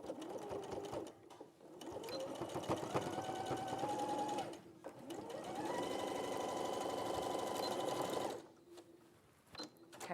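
A sewing machine stitches a facing down in two long steady runs of close, whirring mechanical hum, each starting and stopping with brief handling noises between.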